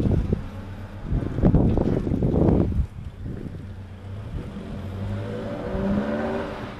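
A Toyota Hilux on a test drive after a fuel pump replacement, its engine rumbling and revving with steady road and wind noise, louder early on, then settling into a smoother hum.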